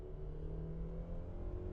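A 2004 Toyota Camry 2.4 GLI accelerating, heard from inside the cabin as a steady low engine drone and road rumble that holds level throughout, with no voices.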